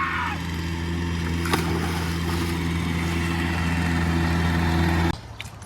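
A four-wheeler engine idles steadily nearby with a low, even drone and constant hum for about five seconds, then cuts off abruptly near the end, leaving quieter background.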